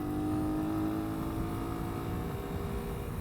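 A 2022 Sinnis SM-R 125cc motorcycle riding up a dual carriageway, a steady droning engine with a rising whine under continuous wind rush, loud and sustained throughout, no talking.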